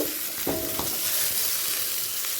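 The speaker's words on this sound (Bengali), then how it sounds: "আরও এক মিনিট ভেজে নেব" Pumpkin, potato, pointed gourd, taro, radish and jackfruit sizzle steadily in hot oil, with a couple of sharp scraping stirs near the start, then continuous frying hiss.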